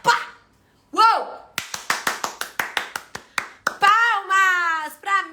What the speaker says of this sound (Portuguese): Palmas pra mim, palmas pra Camila, pra Fernanda